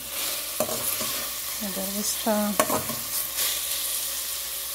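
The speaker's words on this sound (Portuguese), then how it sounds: "Já coloquei um dente de alho pra fritar." Garlic clove and ground beef frying in a pan, a steady close sizzle with faint stirring, and a single brief spoken word partway through.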